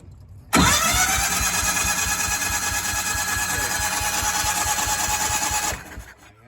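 A Miller Bobcat 225 welder's engine is cranked over by the starter in one steady, even, rhythmic churn lasting about five seconds, loud and close, without catching, before cutting off abruptly.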